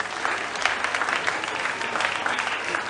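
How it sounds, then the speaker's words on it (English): A school quiz championship audience claps steadily for about three seconds, a dense, even wash of many hands with no pauses and no voices. "Ladies and gentlemen, round of applause, please."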